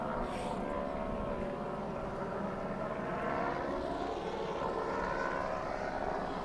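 A helicopter passes by overhead, a steady broad drone of engine and rotor noise that holds level throughout, with no voices.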